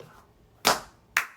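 Two sharp hand claps ring out about half a second apart, crisp and close, during a relaxed livestream with no talking underneath.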